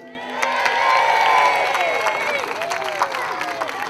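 Some 300 schoolchildren in a crowd cheer loudly, a sustained chorus of high shouts and squeals with scattered clapping, rising quickly and holding steady before tapering slightly.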